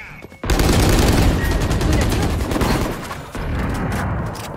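Sustained automatic gunfire from a Valorant competitive match: dense, loud rapid shots begin abruptly after a short pause and continue for several seconds with a brief dip, over game ambience.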